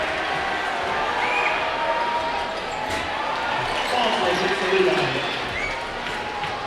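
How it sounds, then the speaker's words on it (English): A high school gym crowd at a Green Canyon versus Sky View basketball game cheers a freshman player as he checks out. The steady, fairly loud roar swells and rolls on under faint court noise. "Howell gets a big cheer as he checks out of the game."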